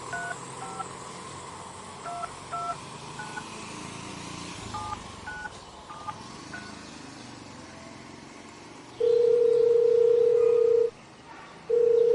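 A telephone number is dialed on a phone, a series of short keypad tones, followed by a steady loud tone that pauses briefly and starts again near the end.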